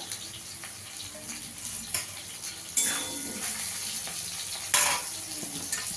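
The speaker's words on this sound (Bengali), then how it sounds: "গাঁটিগুলো একটু ভেজে নেবো ভালো করে।" Taro pieces and potatoes fry in oil in a pan for a rui fish curry, a continuous close sizzle with occasional louder bursts and scraping as the pieces are moved, no voices.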